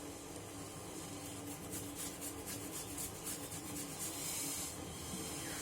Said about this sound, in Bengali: এই যে আদা দিদি ঘষে চায়ের মধ্যে তো ভালো লাগবে